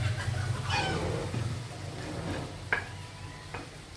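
Potatoes frying in a small amount of mustard oil in a home kitchen, a low steady sizzle with occasional clinks and scrapes of stirring, fairly close but subdued.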